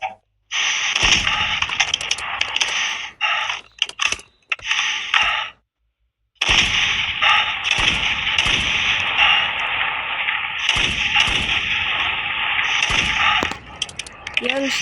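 An M4 rifle firing in a modded video game: long, dense bursts of rapid gunfire with brief silent gaps, fairly loud and continuous, while a voice talks over parts of it.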